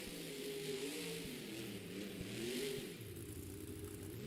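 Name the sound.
monster truck engine revving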